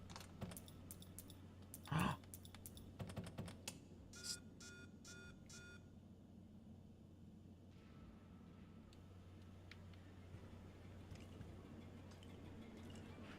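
Faint clicking and keyboard typing, a quick run of light taps and beeps early on, then quieter ticking over a steady low background hum.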